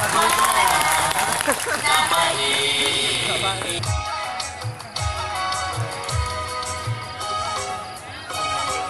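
An outdoor festival crowd gives loud, sustained applause and cheering for a singer on stage, mixed with music at first, then thinning into scattered claps with low thumps and a voice over the top.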